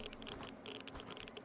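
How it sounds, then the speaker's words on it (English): Dense, steady scurrying patter of many small feet from a rat horde in S.T.A.L.K.E.R. 2: Heart of Chornobyl, continuous and fairly close. "That's the sound of a rat horde."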